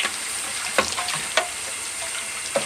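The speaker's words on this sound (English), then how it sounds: "there really is no substitute for good old-fashioned soapy water" Soapy water washing a carbon fiber fender from a 2020 Yamaha MT-09 motorcycle, a continuous hissing wash with a few sharp scrubbing and splashing hits spread through it.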